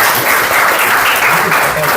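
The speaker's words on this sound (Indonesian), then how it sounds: "Tepuk tangan kalian." An audience of students bursts into sustained applause, loud and continuous from start to finish, a thick wash of hand claps that never thins out.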